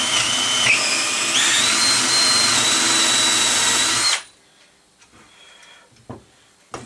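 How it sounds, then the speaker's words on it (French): Power drill boring into a wooden board, a loud steady whine for about four seconds that then cuts off, leaving a quiet room with a few light clicks and knocks. "je peux décaler et passer ma perceuse."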